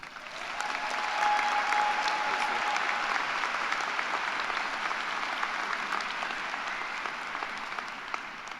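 Sustained applause from a large audience at a college of engineering undergraduate graduation celebration, steady and dense clapping that swells, holds evenly for several seconds and slowly tapers.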